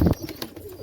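A pigeon inside a loft gives a brief, low coo, close and short, followed by faint rustling with only soft background noise.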